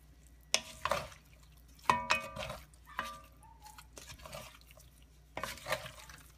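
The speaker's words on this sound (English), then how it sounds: "We're going to mix that up so that that beef gets coated" A spoon stirs flour-coated beef in a pot, giving a few separate scraping clinks and knocks at irregular intervals, close and fairly quiet with no talking.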